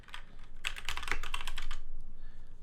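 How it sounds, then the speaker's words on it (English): Keys clack in quick bursts on a DMK02 budget mechanical keyboard, close and crisp, with a brief pause after a flurry of strokes and no speech. "Okay, we'll type with this one."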